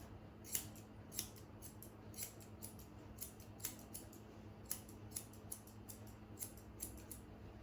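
Scissors snip in close, trimming the fur on a dog's face during grooming, with roughly a dozen crisp, quiet cuts spaced about half a second apart and no talk over them.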